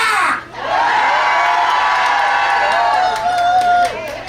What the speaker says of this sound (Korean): 그 나쁜 것들 다시 한번 함성 일발 작전 시작!